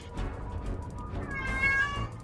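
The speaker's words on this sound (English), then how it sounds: "Where'd that cat come from?" A cat meows in a drawn-out, whiny call that rises toward the end, heard alone and fairly close over a steady background hum.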